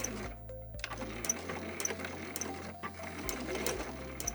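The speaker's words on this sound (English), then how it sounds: "sewing over the last end of the strap, and I want to make sure to do a little back stitch" Sewing machine back stitching over the end of a tote bag strap, a close mechanical whirr that runs in short starts and stops with a clicking beat.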